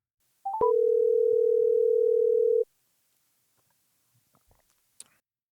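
A few quick dialing beeps, then a steady telephone dial tone sustained for about two seconds before cutting off, followed by faint clicks and handling noises.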